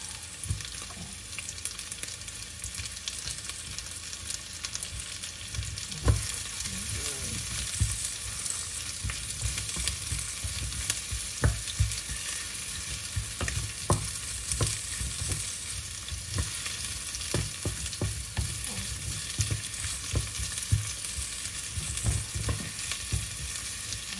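Chopped onion frying in a pan for binagoongang alamang with squash and green beans, a steady close sizzle with scattered clicks and scrapes of stirring throughout, no talking.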